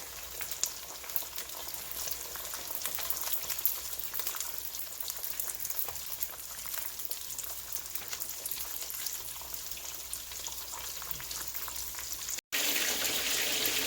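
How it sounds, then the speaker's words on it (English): Steady crackling and bubbling of beef spring rolls deep frying in hot oil, a dense continuous sizzle that runs throughout with a brief cut near the end. "while the egg roll is frying up"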